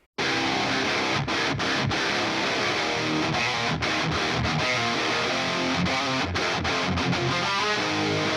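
Two layered tracks of high-gain metal guitar from a 5150 block letter amp combine into a thick, wide wall of chugging riffing, punctuated by sharp staccato cutoffs and sustained loud throughout about eight seconds.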